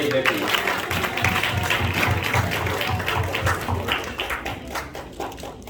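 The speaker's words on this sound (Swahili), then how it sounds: "Tuwapigie makofi tena wamama." Congregation at a Christmas church gathering clapping for the mothers, a steady rhythmic round of applause from many hands close by, with some voices mixed in.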